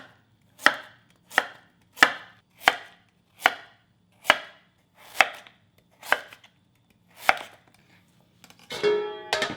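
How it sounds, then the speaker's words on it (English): A knife chops radish and fruit into thin bite-sized pieces on a cutting board, giving about ten sharp, evenly spaced knocks that ring out clearly in a quiet room, followed by a brief rustle. "I will just cut into bite-sized pieces"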